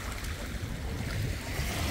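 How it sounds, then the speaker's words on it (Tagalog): Strong waves churn against a boat, a steady, loud rush of water sloshing nearby with no break across the moment. "Tingnan mo, lakas ng alon."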